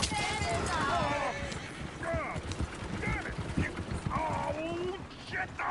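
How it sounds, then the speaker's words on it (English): Horses in Red Dead Redemption II clopping with mechanical rattles and creaks, a few whinny-like calls rising through the mix, all under continuous talk and game sounds. "Oh, shit, the horses! Damn horses!"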